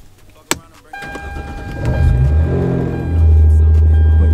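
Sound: Hyundai Genesis Coupe engine starting

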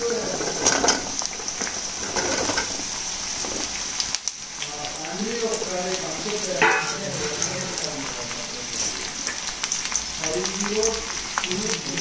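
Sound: drumstick pieces frying in a pan for curry

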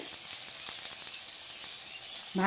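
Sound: Malabar spinach seeds frying in a pan

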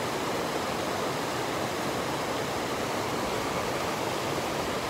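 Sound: Low Force waterfall on the Pennine Way

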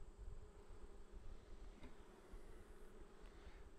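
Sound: honey bees buzzing at hive

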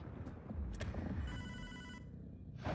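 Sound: telephone ringing in the video game Hotline Miami 2

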